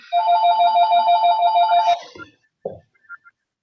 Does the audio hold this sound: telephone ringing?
yes